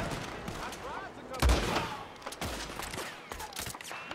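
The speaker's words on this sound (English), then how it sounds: "All right, let's shoot the dynamite." Gunfire in the video game Red Dead Redemption 2, aimed at dynamite: a few sharp shots and a loud burst amid busy game sound effects, with no talking.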